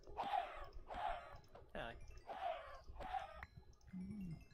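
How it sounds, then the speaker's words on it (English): Chickens in a video game squawk loudly during slaughter, five harsh, clucking bursts in quick rhythmic succession, close and overlapping, followed by a brief lower tone. "The screaming of simultaneous chickens."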